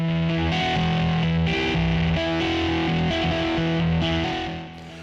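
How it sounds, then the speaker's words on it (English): Distorted electric guitar cuts in and out of a dense rock mix over a chopping tom beat, loud throughout before tapering off at the end. "you can hear a distorted guitar jumping in and out"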